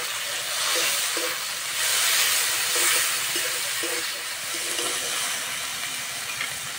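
Onion, tomato and ginger-garlic paste frying in hot oil for a Bengali snail curry, a steady close hiss with faint crackle throughout.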